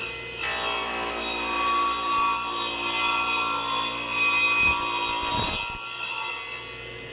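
Cutoff saw slicing through a wood sample board for kiln-drying tests, a loud steady whine of the blade cutting for several seconds before winding down, heard alone without talk.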